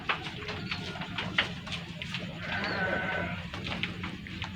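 A sheep bleats a few times nearby, wavering cries over a faint murmur of background chatter.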